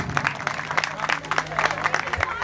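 Applause from an outdoor picnic crowd of the Turkish Disabled Association's Ordu branch greeting the association president onto the stage, dense steady clapping throughout with a low hum running underneath.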